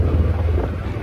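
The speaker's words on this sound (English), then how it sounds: "It is windy and rainy today" Wind buffets a microphone outdoors on a rainy mountain in North Idaho, a brief burst of loud, low, gusty rumble.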